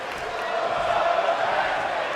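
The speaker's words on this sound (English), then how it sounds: "you hear the crowd all chanting, "Bask in his glory,"" A virtual arena crowd in the WWE 2K22 wrestling game makes a dense, steady roar of chanting voices that fills the whole two seconds at an even level, with no clear gaps.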